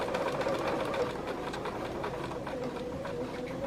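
Janome sewing machine stitching a patchwork seam with pins left in, a steady rapid mechanical whirr and needle clatter, close and continuous with no talking.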